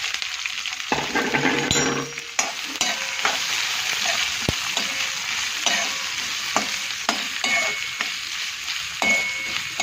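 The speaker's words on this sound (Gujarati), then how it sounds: "હવે પહેલાં ડુંગળી શેકી દઈશું આપણે." Onion fries in hot oil in a kadai with cumin seeds and curry leaves, giving a continuous close sizzle with frequent scraping stirs and occasional light metallic clinks against the pan.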